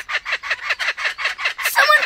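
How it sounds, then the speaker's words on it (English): A laughing kookaburra calls in rapid repeated cackling bursts, about eight evenly spaced loud hoots rising into a noisier jumble at the end, close and clear with no other sounds. "A laughing kookaburra. It's very noisy."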